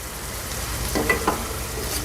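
Tamarind water dissolved in half a tumbler of water is poured into a hot pan of spices for a snack dish, raising a brief, bubbling sizzle over a steady frying hiss.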